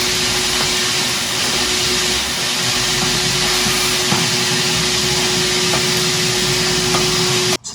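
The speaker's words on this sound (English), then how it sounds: "We're going to kind of vacuum inside of here." A vacuum cleaner runs steadily and loudly with a constant whining drone, vacuuming inside a gas water heater, then cuts off abruptly at the very end.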